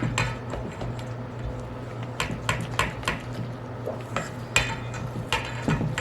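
Flour and water stirred together in a bowl for a sourdough starter, giving a run of close, irregular scraping and clinking taps against the vessel with a low steady hum behind.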